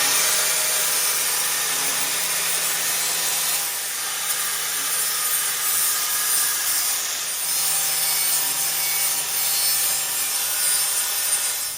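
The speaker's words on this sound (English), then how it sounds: "Got a favorite grinder out here, and gonna grind these edges down a little bit." A grinder works the edges of a steel exhaust pipe held in a vise during a 2017 Ford Mustang GT Coyote 5.0 MBRP exhaust install, giving a steady, loud, continuous high-pitched grinding hiss close by without pause.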